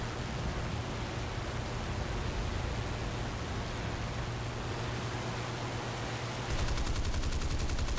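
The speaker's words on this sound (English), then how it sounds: "I decided to follow for a little bit and unload some rounds in his direction." Stock aircraft machine guns firing in the War Thunder video game, heard as a continuous roaring rattle of rounds that runs the whole stretch and grows slightly harsher toward the end.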